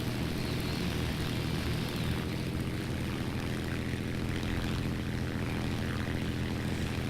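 A damaged aircraft engine in the War Thunder video game drones with a steady, loud propeller roar throughout, with no break or change in level.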